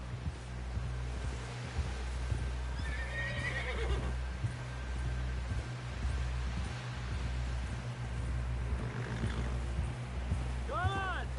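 A horse in the Red Dead Redemption 2 video game whinnies in several rising, wavering calls, the last near the end, over a steady low rumble of riding and clip-clopping hooves, with talk mixed in.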